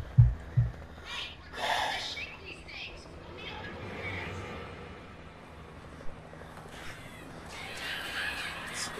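Crows caw in scattered calls in the video game Alan Wake Remastered, a few harsh cries near the start and fainter ones later, amid low ambience and some talking.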